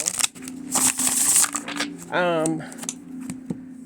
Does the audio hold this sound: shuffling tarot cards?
yes